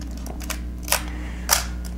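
A lens bayonet is twisted into the mount of a Nikon F2 film camera, giving a few faint ticks and then two crisp, close mechanical clicks against quiet background hum.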